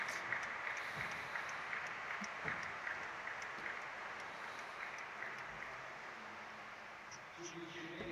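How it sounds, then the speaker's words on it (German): Polite audience applause in a hall at a public discussion event, a steady, moderately distant clapping that carries on evenly before fading slightly near the end. "Und wir grüßen Sie mit einem Applaus."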